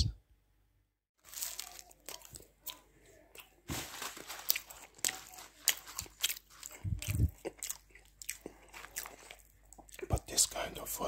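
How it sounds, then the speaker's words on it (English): Close, ear-to-ear ASMR eating of patisseries: crisp bites, crunching and chewing come in repeated bursts after a brief silence, with soft crinkling of wrapping and quiet whispering. "ASMR. Eating sounds."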